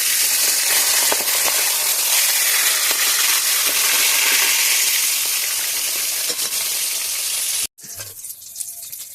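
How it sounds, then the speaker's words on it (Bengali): A fish head fries in hot oil in a pan, giving a loud, dense, continuous sizzle that cuts off abruptly near the end, leaving quieter clatter. "মাথাটা আমার খুব সুন্দর করে ভাজা হয়ে গেছে"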